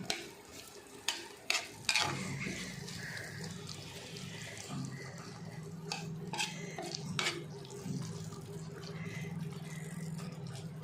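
Lime pickle liquid heats in a pan on a gas stove, giving a soft steady bubbling and sizzle after a few sharp utensil clicks at the start.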